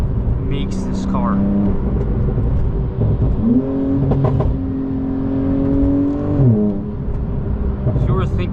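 A Porsche 911 Turbo S (992) with an Akrapovic exhaust hums loudly and revs up, holding a raised pitch before easing back down, with a few short voice sounds over it.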